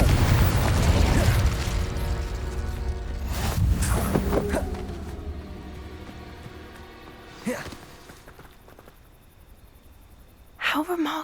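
Blasting and fire spells in Hogwarts Legacy go off as a heavy booming explosion, then fading rumble and a few later sharp bursts, loud and close.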